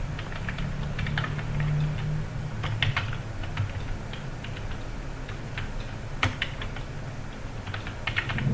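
Fingers type on a computer keyboard while searching Typing Baba in Google Chrome, a steady stream of quick, light key clicks with occasional louder taps over a constant low hum.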